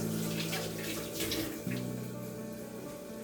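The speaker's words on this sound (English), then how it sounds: "Washing my hands." A kitchen faucet runs steadily while hands are washed beneath it, a continuous close splashing stream with slight changes as the hands move, no voices.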